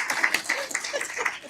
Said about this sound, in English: Okay, let me applaud.